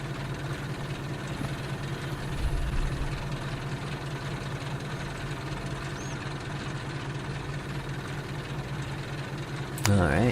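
A farm vehicle engine in Farming Simulator 22 idles with a steady low drone throughout, a brief swell near the start and a sharp click at the very end.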